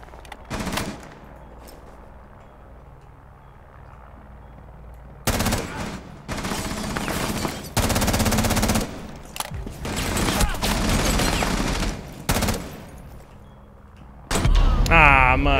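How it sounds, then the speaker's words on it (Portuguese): Bursts of automatic gunfire in Rainbow Six Siege, loud sustained volleys that start and stop across the stretch, separated by quieter gaps with faint clicks, ending in one more heavy burst. "o maluco atirando aleatoriamente"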